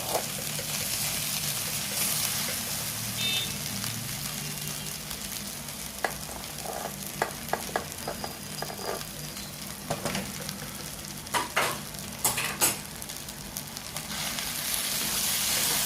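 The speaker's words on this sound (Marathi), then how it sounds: "आता सगळी फोडणी आपण त्याला मिक्स करून घ्यायची" Coconut rice sizzles in a pan as tempering is stirred in, a steady close frying hiss with scattered spoon scrapes and taps in the latter half.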